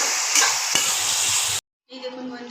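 Bottle gourd peel fries in a pan with a loud, steady sizzle and stirring, cutting to silence, then resuming as a quieter sizzle.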